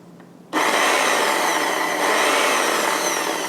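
Food processor chopping herbs with a steady, loud whirring grind that starts abruptly and runs without a break, no voices over it.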